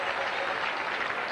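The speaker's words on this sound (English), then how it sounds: "Andujar acknowledging the applause he received from these fans here" Oakland A's baseball crowd applauding a departing pitcher at the ballpark, a steady wash of clapping from many hands spread across the stands with no breaks.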